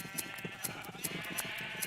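Sheep in Minecraft bleat in a quick irregular series of short, nasal calls, several overlapping at moderate distance, with a faint background and no talking.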